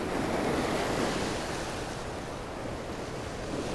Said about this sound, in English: Oh, big waves coming in.